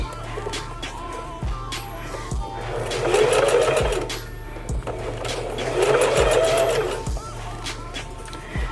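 A sewing machine stitches a wig cap in steady, fast mechanical runs that swell louder in two bursts, heard up close with a continuous motor hum underneath.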